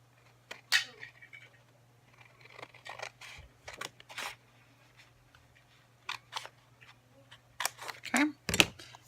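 Scissors cutting straight across a fabric tag, a scattered series of crisp close snips and rustles, some single and some in quick clusters, over a low steady hum.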